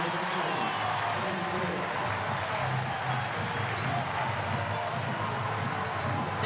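Volleyball arena crowd cheering at an NCAA tournament quarterfinal between Pitt and Louisville, a dense, sustained roar of many voices filling the hall, with commentary faintly underneath.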